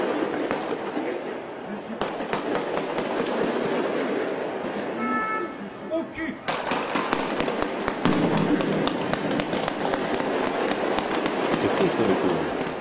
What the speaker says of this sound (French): Échange de coups de feu nourris.